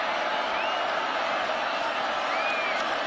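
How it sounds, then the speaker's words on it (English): A packed Camp Randall Stadium crowd roars steadily through a 2015 college football game between Miami (Ohio) and Wisconsin, a loud, dense, unbroken wall of cheering with no pauses. "Crowd at Camp Randall making communication tough."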